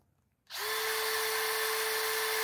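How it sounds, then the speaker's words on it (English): A drill running at fast speed spins a 9mm bore brush for cleaning a gun barrel. After a brief silence it starts abruptly, then holds a steady, close, high-pitched whir. "put it in your drill. Tighten it up, put this on the fast speed, give it a spin"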